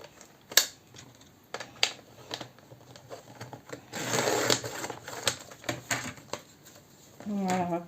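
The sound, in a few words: cutting paper for a scrapbook album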